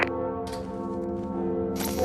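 Seven bells tolling in a video game: loud, sustained ringing tones that swell and linger, with brief bright strikes at the start and again near the end, and no voices over them.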